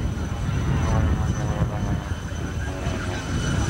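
A jet-powered dragster pickup truck with afterburner roars as it comes down the runway at a naval air station, a loud, steady rumbling blast heard from a distance.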